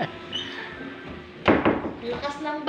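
A door is shut indoors during a strong typhoon, one sharp knock cutting through excited voices, with a couple of smaller knocks following.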